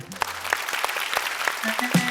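Live audience breaks into a short burst of scattered clapping on a reality TV show grand finale stage, the claps loose and uneven rather than a full roar.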